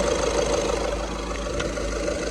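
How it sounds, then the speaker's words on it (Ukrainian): A car engine idles steadily close by, a low continuous rumble with a faint mechanical ticking. "Моторчик у нас працює добре"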